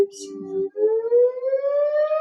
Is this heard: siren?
yes